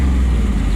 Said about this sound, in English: you can hear the engine. Sounds great,